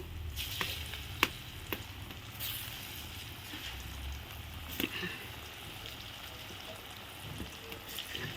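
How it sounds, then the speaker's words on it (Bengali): Paneer dhoka fritters frying in hot oil, a steady low sizzle throughout with a few sharp clicks and spatters, fairly quiet and close, with no talking. "তেল গরম হয়ে গেছে আর এই তো আমার পনিরের ধোকাগুলো এখন আমি দিয়ে দেব একটা একটা করে এই দেখো সুন্দর এখন ভেজে নেবো"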